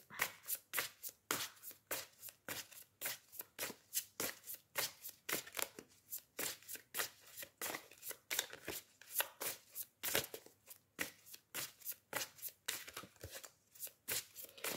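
Oracle cards are shuffled by hand in a steady run of crisp riffling bursts, close and fairly quiet, repeating rhythmically without pause and with no talking.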